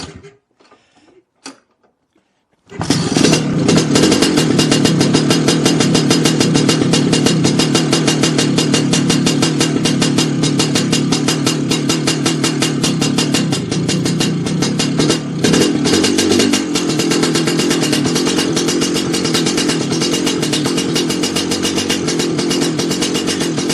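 A Lambretta scooter with an oil seal problem and petrol in the oil, heard after a few faint clicks as its two-stroke engine fires up and settles into a loud, steady, buzzing run that carries on unbroken to the end.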